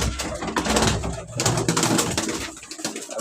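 Pigeons cooing inside a pigeon farm, several birds overlapping in a busy, continuous murmur of low coos with scattered wing flutters and handling noise, fairly close and loud throughout.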